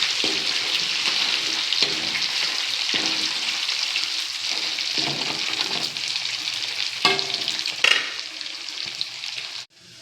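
Chicken pieces for pickle sizzle in hot oil, a steady bright frying hiss with periodic scraping and stirring knocks, close up, ending with a sudden drop in sound.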